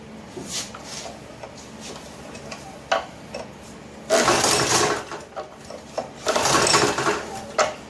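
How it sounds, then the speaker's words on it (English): A Honda EB2500 generator being pull-started without choke: a few light clicks and taps, then two rough rasping pull-cord bursts, each about a second long, with no engine catching. "So let's do a no choke start."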